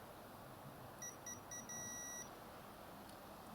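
A continuity tester beeping as its probes touch the coax of a loop antenna, several short faint tones followed by one longer sustained beep over quiet background hiss.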